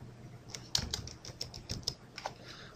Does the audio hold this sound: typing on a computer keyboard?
yes